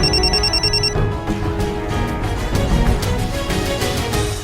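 A telephone ringing with a repeated electronic tone over dense background sound, continuous for several seconds with no talk.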